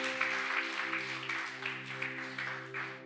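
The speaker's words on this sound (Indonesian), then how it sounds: "Tepuk tangan bagi Allah kita" A church congregation claps during a Sunday worship service, a brisk wash of hands over sustained organ or keyboard chords, swelling and easing in waves.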